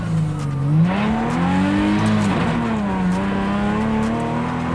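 A race car engine drones loudly and steadily, its pitch rising and falling slightly as it holds speed close by.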